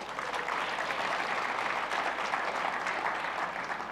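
Tech talk audience breaks into steady, dense applause, a full wash of clapping that stays level and unbroken for a few seconds with no voices over it.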